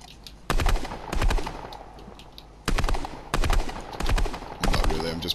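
Rapid automatic gunfire from a video game with an infinite-ammo cheat, fired at bushes in loud repeated bursts separated by brief pauses, with a voice speaking faintly underneath.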